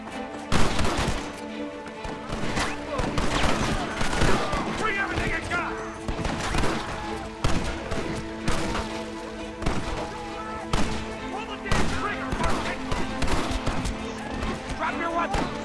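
Dense, rapid gunfire from Red Dead Redemption rattles through a firefight, sharp repeated shots and bursts sounding close and loud, with voices talking over the shooting.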